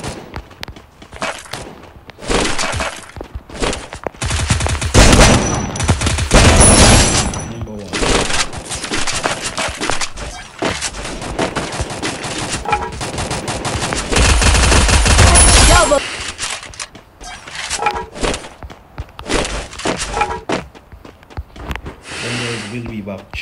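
Shotgun blasts in Free Fire ring out in dense, loud volleys amid other gunfire and footsteps, with heavy sustained bursts midway and near the end, while a player talks excitedly throughout.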